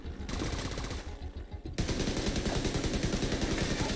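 Sustained automatic assault rifle fire in The Division 2, loud and close, rattling in rapid even bursts with a brief change in tone partway through, and no voices over it.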